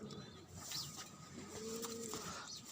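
A Khal pigeon coos softly in a breeding setup, one low rolling call near the middle with faint background rustle and a hint of a voice, quiet overall.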